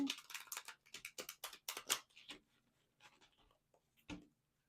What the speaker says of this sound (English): I'll give you just a moment while I'm shuffling to do that right now.